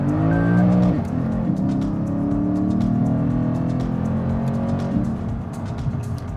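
A 2020 Lexus RC F with its V8, driven hard in manual mode: a loud, close engine drone with rising and falling pitch as it accelerates and shifts, and a brief break near the start.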